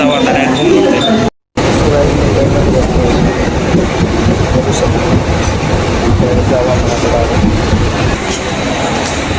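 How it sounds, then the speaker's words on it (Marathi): A train pulls into a station in India, a steady loud rumble of wheels and carriages filling the scene with some voices mixed in around it. "मागं ट्रेन आली, ह्या ट्रेन बसायचं आणि जायचं."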